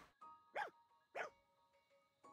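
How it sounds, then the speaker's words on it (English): Dog barking in the video game Fire Emblem Engage: two loud, close single barks about half a second apart, with a third starting at the end, over a quiet game music backdrop. "Bark for me."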